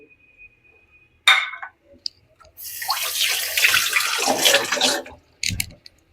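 Tap water running as hands are washed in a home kitchen while cooking chicken curry in a clay pot, a brief splash and clink first, then a steady close stream for a couple of seconds before it stops, with a short final burst.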